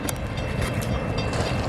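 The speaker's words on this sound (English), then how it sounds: "It's been a while since I've seen a train up close." A train rolls past up close on the tracks, a loud, steady roar of wheels and cars with faint rhythmic clatter, filling the whole moment without any talking.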